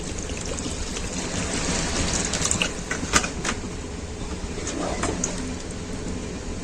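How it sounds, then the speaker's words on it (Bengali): Water trickles and pours steadily into egg biryani masala in a cooking pot, a soft continuous splashing with faint clinks from the kitchen. "এবারে একটু জল দেবো।"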